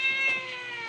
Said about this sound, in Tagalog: Ano ba itong pusa na to? Maingay.